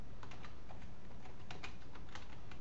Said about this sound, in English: So I'll type my name in there